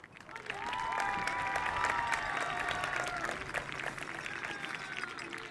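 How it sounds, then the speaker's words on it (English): Audience applause at a high school graduation ceremony, a broad crowd clapping that swells in within the first second and holds steady, with a few cheers and faint voices mixed through the wash. "Give them a much-deserved round of applause."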